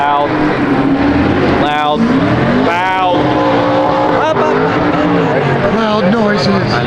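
Loud, continuous roar of drift cars at a track, with engines revving and rising-falling tire squeals sweeping through, close and dense, with voices mixed in.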